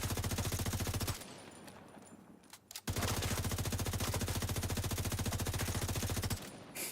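A video game gun fires in long rapid bursts, a dense mechanical rattle lasting about a second, breaking off briefly, then resuming for over three seconds before stopping, loud and close with no talk.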